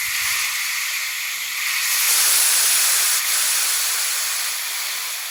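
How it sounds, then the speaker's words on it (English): A steam engine arriving at a station platform vents a steady, loud rush of steam, a continuous broad hiss that swells in the middle and holds to the end, with a faint low rumble at the start. "and sending out waves of steam."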